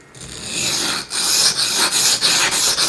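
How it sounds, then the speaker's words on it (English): Loud, rhythmic rasping strokes of a knife blade scraping across a very coarse, aggressive sharpening stone, repeated back and forth up close with no voices. "you can hear the coarseness of that stone"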